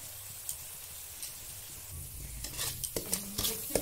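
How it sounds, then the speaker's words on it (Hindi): Masala with salt frying in a pan for a Bengali chorchori, a steady low sizzle that grows busier toward the end with sharp scrapes and clicks of stirring, close and alone. "मसाला को भूज रहे हैं थोड़ा भून जाएगा"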